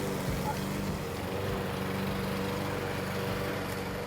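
A lawn mower drones steadily and loudly while cutting grass in a home garden, one continuous engine hum with no breaks.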